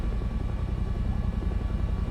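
A steady, low rumble from the rotor of an AH-1W Cobra attack helicopter in War Thunder, droning continuously, with no voices.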